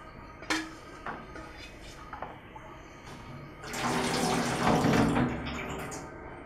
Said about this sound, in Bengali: পানি থেকে বিচিগুলো আলাদা করে নেব।